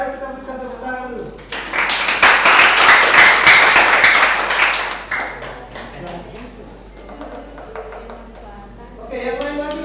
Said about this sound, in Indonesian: kalau tidak ada kita berikan tepuk tangan dulu